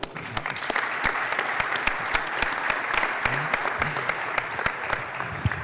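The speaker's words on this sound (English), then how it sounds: "So a round of applause for them" A conference audience claps for the panelists at a financial sector event, loud sustained applause with dense individual claps close by and no speech over it.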